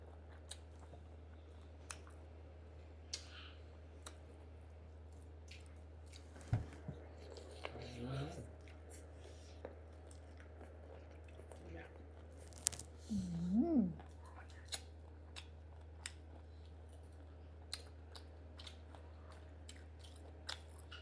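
Someone chews crunchy pickled-fish-sauce cuttlefish salad with bamboo shoots, producing sparse, close, soft crunching bites over a quiet low hum, with a few murmured words in between.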